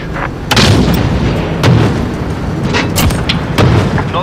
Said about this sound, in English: Gunship standing by. Ready for air support.